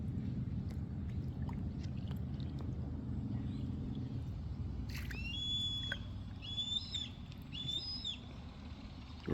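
An eagle calls over a river from trees along the Susquehanna: a few high, thin whistled cries come in short repeated bursts in the second half, fairly distant, over a steady low rumble of water and a motor.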